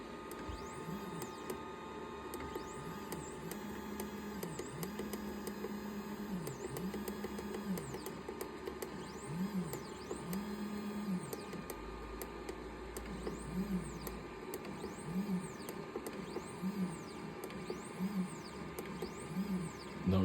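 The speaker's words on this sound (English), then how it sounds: "Notice how the fan doesn't sound as loud anymore?" A CNC machine's cooling fan runs steadily with a faint, repeating rattle from a worn bearing, heard close and alone without talk after the machine was blown clean with compressed air.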